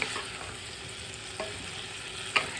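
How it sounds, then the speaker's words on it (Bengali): Fried mushrooms and potatoes are stirred together in a pan, giving a constant close sizzle broken by a few scraping knocks of a spoon against the pan. "এবারে আমি এখানে যে ভেজে রাখা মাশরুম আর আলু আছে, আমি সেটাও দিয়ে দেব। এবার আবারও খুব ভালো করে মিক্স করে নেব।"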